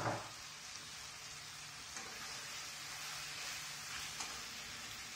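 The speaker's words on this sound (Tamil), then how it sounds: "கேப்சிகம் கலர் மாறாத அளவுக்கு வதக்கி எடுத்துருங்க" Capsicum sautéing in a pan with salt while goat leg varuval is being cooked, giving a steady, soft sizzle with faint stirring scrapes and no talk.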